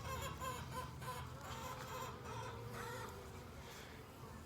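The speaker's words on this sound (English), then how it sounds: "Chickens in the background" Chickens cluck and call from a distance in the background, a steady busy murmur of fowl over low ambient noise throughout.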